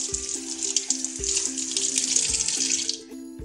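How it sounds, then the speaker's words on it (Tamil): Water runs steadily from a tap while a copper vessel is washed at home, a loud close hiss with faint knocks and clinks of the metal pot beneath the stream until it shuts off near the end. "இப்போ நான் வாஷ் பண்ணிவிட்டு காமிக்கிறேன்."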